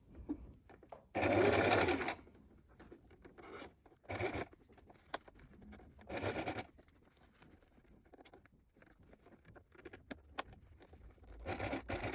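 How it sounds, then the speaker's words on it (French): A sewing machine sews fabric 1 cm from the edge around a donut-shaped pincushion in short bursts, with one longer loud run followed by several brief stitching spurts and quiet fabric handling between them. "Maintenant, vous allez coudre à 1 cm du bord tout autour."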